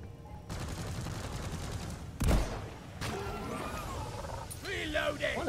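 Gunfire in the co-op mining shooter Deep Rock Galactic, a steady rattling burst with one heavier blast, under a busy game mix with creature roars and chittering.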